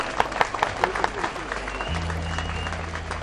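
An audience at an official event for the Union Home Minister's visit in Tripura claps in a rippling round of applause, with a steady low hum and faint voices underneath.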